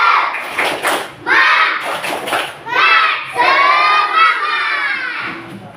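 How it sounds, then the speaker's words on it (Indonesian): Schoolchildren in an Indonesian classroom shout hooray together in several loud, overlapping bursts, rising and falling as a crowd of young voices cheers near and close. "Siapa suka hati teriak hore?"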